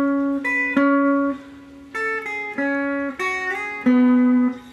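An electric guitar plays a riff with a slight slide, taken a little slowly: a few sustained, ringing notes and chords struck in a repeating pattern, alone and clear.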